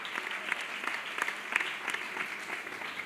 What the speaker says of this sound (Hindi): विश्वास है तो ताली बजा के धन्यवाद करें।